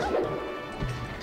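Smash attacks landing in a Super Smash Bros. Melee losers finals match between Marth and Peach, a couple of sharp crashing hits over continuous game sound effects.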